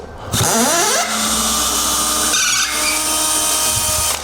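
Power drill driving a screw while a 75-inch TV is mounted, a loud whirring burst that rises in pitch then holds steady, close and alone.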